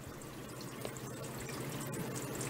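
Water pours steadily into the trough of a Hoshizaki ice machine while its pump hums underneath, a constant close splashing rush over a low drone.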